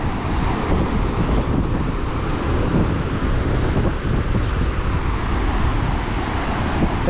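Strong wind at a Pacific Ocean beach buffets the microphone in a constant low roar, with the wash of surf faintly mixed in and no voices.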